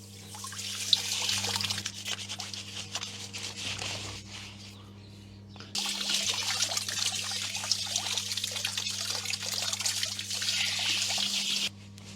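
Water runs from a Camplux Nano portable water heater shower outdoors, a steady trickling spray that pauses briefly midway and then resumes, with a constant low mechanical hum beneath.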